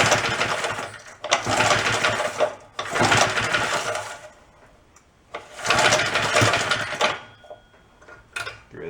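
A fifty-year-old abandoned Rupp mini bike's small engine idling with choke applied, chugging in uneven bursts that fade to quiet gaps, then picking up again, fairly close and loud.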